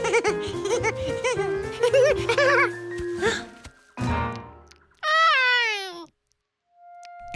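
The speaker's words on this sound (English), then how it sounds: "nothing slams the brakes on fun like some strange cat eating your sandwich" A cartoon cat meows in a long, rising, wavering cry on its own after a burst of bright animated music and sound effects, followed by a quiet tail.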